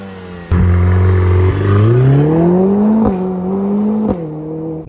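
A Lotus Emira with a 2.0-litre turbocharged four-cylinder accelerates hard, its engine note climbing steadily through the gears with brief dips at each shift, loud and close with no talking.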